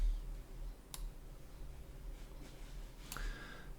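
Two crisp computer mouse clicks while modelling in Plasticity, spaced about two seconds apart, close and fairly faint over a low steady hum.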